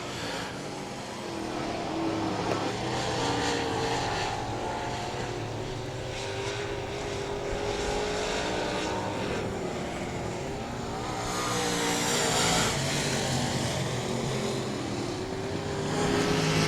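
Race cars circling South Texas Speedway in a short-track event, engines droning steadily and close with a continuous roar that swells as cars pass down the front stretch.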